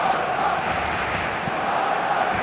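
Stadium crowd in an eFootball 2026 match, a dense, loud roar of massed voices and chanting that rises and falls steadily throughout, with faint commentary underneath.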